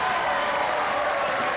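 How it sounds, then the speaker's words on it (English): A crowd of fans cheers at a Weber Cup 2017 ten-pin bowling match, a steady, dense roar that fills the whole moment with no break. "That might be the biggest cheer of the night because they're suffering with him, these fans."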